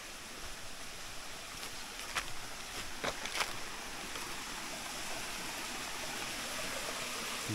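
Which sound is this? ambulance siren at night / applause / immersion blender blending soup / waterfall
waterfall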